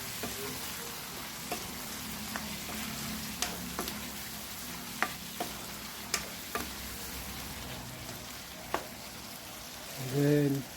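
Chicken afritada with oyster sauce and a little vinegar being stirred in a frying pan, steady sizzle beneath scattered sharp scrapes and taps of a utensil, ending in a brief louder clatter.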